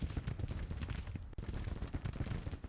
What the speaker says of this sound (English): They're apparently shooting at something.